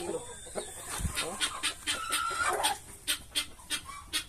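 An eight-month-old Basilan x Black Australorp free-range chicken clucking close by in a series of short, rhythmic calls, with brief handling noise and faint voices in the background.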